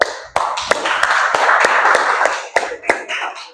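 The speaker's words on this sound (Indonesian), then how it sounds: "Tepuk tangan untuk mereka." A classroom audience applauds a group presentation with steady, dense clapping, sharp individual claps standing out through the wash, loud and close with no talking.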